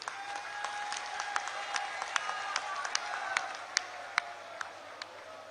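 A crowd claps at an outdoor political rally in Punjab, a moderate, scattered applause of many hands with some sharper individual claps standing out, heard from a distance.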